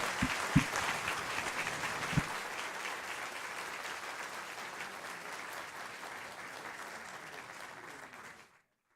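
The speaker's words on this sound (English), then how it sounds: "Can we have another huge round of applause for the 5 finalists?" A poetry recitation competition audience claps loudly and steadily for about eight seconds, a dense sustained roar of hands from a large crowd that cuts off at the end.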